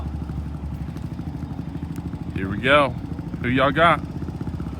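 Kawasaki Mule and Kawasaki Bayou engines idle steadily in a low, continuous throb throughout, with people talking loudly over them near the end.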